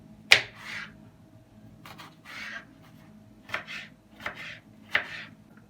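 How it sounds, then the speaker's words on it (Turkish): A knife chops onions on a board in a few separate strokes, crisp taps spaced irregularly in a quiet room. "soğanımızı doğrayalım"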